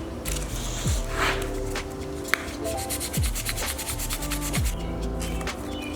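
Close, rhythmic rubbing of sandpaper on a carbon fiber spoiler, a dry scratchy rasp repeating in back-and-forth strokes with no talking.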